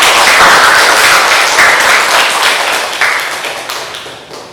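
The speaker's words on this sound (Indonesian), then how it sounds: "Berikan aplaus untuk kelompok 2." Classroom applause for a student group after its presentation, a loud burst of many hands clapping together that holds steady and then gradually fades.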